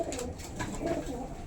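Pet pigeons cooing nearby, a few soft rolling coos rising and falling over a quiet room.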